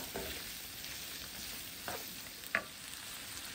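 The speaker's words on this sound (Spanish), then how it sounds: "Ya solamente voy a esperar a que la cebolla le dé un poquito más de sabor y se guise un poquito con la mantequilla" Shrimp and onion cook gently in butter in a pan, a faint, soft steady sizzle with a few light clicks of a utensil against the pan, quiet and without voices.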